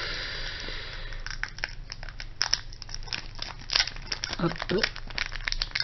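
A trading card booster pack wrapper being crinkled and torn open by hand, bursts of crisp crackling and ripping close up, with a voice speaking briefly over it.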